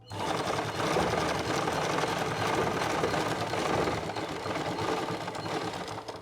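A sewing machine runs continuously while stitching tucks into a blouse, a dense steady whirring hum with fast mechanical rattle, close and even throughout with no talking.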